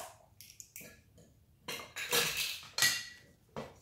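Beans being mixed with spices in a pot, a spoon clanking and scraping against the metal in several uneven bursts, close by with no speech.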